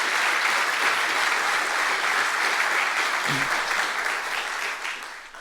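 An audience at a ribbon-cutting ceremony for a new applied engineering building claps steadily, a dense, sustained round of applause that tapers off toward the end.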